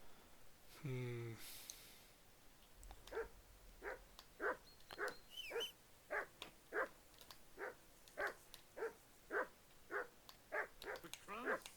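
Dog in Kingdom Come: Deliverance 2 barks loudly and close in a fast, regular run of about fifteen barks. A short voice is heard just before them.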